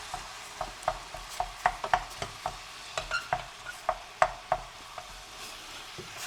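Lasagne filling browning in a pan, a steady close sizzle broken by a quick, regular series of scraping, tapping stirs against the pan, with no one talking.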